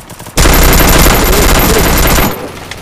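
Heavy machine gun fire in a video game: one loud, sustained burst of rapid shots lasting about two seconds, starting abruptly and cutting off, with no talk over it.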